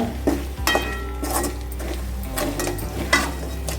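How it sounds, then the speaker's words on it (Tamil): Snail fry gravy being stirred in a pan, with a utensil scraping and clinking against the metal in repeated close strokes over a steady low background hum. "கிளறி விட்டுருங்க"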